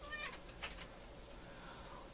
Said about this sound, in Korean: 고양이 난리가 났다